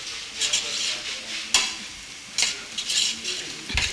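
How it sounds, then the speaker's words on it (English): Beef pieces are stirred into a pot of jollof rice over the heat in Ghana. A spoon scrapes in irregular strokes with a few sharp knocks against the pot, under a light sizzle. "That is being stirred into the rice."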